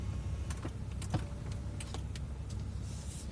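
A power window lowers inside the cabin of a 2017 Bentley Bentayga W12 SUV, giving a soft steady motor whir with a few small clicks over a quiet interior hum, with no talking.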